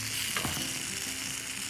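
Eggplant and vegetables sizzle over fire roasting for an ikra dip, a steady close crackle with a brief scrape or shuffle early on and no talking.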